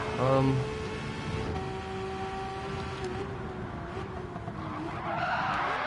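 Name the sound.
racing car skidding under handbrake, racing video game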